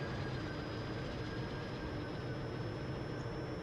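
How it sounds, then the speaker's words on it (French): Steady droning engine of an aircraft passing overhead in the IL-2 Korea flight game, a continuous loud rumble with a faint high whine and no talking. "c'est le bruit du moteur de l'avion qui était au-dessus de moi"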